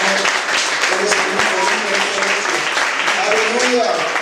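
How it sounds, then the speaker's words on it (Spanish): A church congregation applauds during a Sunday service, a steady wash of clapping held for several seconds with voices and music tones running underneath. "¿Cuántos le pueden dar un aplauso al Señor?"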